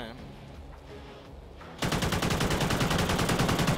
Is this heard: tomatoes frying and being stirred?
no